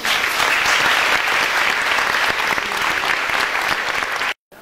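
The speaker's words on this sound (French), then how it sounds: "Je vous demande de les applaudir très chaleureusement" Warm, sustained applause from an audience greeting the queens of Arles at the election ceremony, a thick, even roar of many hands lasting about four seconds before cutting off abruptly.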